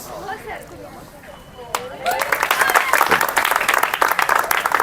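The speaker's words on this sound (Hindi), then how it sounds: "इस बार ताली बजाओ तो जोर से बजाओ" Students in a classroom clap loudly, a burst of rapid, crisp hand claps that starts after a quieter stretch of faint voices and builds into sustained close clapping.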